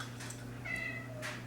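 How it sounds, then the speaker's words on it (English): A pet cat meows insistently in a couple of short, nasal cries over a steady low household hum, fairly faint and with no talking. "She's a very insistent girl, our kitty cat."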